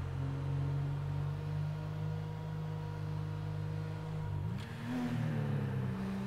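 A car engine with a loud exhaust drones steadily in an RP driving game, then swells in a quick rev near the end, heard close and alone.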